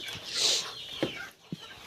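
Broody hens on a farm give soft, low clucks close by, a few short separate calls over a quiet yard background.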